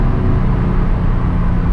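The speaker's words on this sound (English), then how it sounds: "there's a lot of traffic" Steady low road and engine noise from inside a stock Nissan 350z driving on wet backroads in traffic, a continuous loud rumble with no speech.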